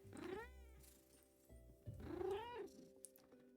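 A cat meows twice in the video game Graveyard Keep, two clear, drawn-out mews separated by a short gap over a low, steady background drone.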